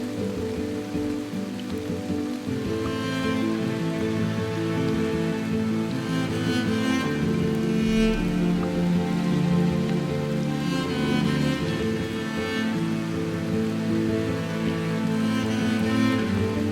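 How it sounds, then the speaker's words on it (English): Heavy rain pours steadily onto a surface, a dense continuous patter with a low drone underneath, no voices. "a storm caught up to us, unleashing heavy rain"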